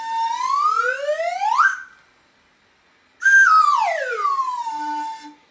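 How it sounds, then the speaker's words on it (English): A slide whistle climbs steadily upward, pauses, then glides back down in a long descending sweep, loud and close and heard alone. "when the whistle goes up, you're going to stand up. And when the whistle comes back down again, you're going to go and sit down"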